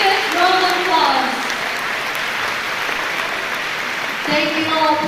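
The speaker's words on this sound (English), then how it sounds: "Let's give her a big round of applause." Applause from guests at a Europe Day dinner welcoming Taiwan's President Tsai Ing-wen to the stage, a steady moderately loud clapping wash, with a voice speaking over it at the start and again near the end.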